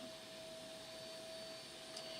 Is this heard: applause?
no